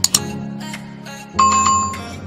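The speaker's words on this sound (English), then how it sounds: "Click the notification bell" A bright notification bell rings as a short effect: two quick dings, then a sustained ringing chime with a pure tone, loud and close, standing alone without speech.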